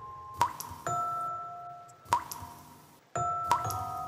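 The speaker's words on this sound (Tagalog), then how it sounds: "bahagyang tunog ng tubig na tumutulo sa ilalim" Water drips below in a quiet, echoing space, with three separate bright plinking drops, each ringing briefly and spaced about a second and a half apart, clear and unaccompanied.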